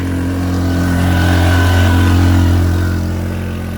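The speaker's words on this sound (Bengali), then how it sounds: "আপনি দেখতে পাচ্ছেন এই খাড়া পাহাড় দিয়ে কীভাবে বাইক উঠছে" A motorbike's engine labors loud and close while climbing a steep hill, a steady low drone that swells in the middle and eases slightly toward the end, with no voices.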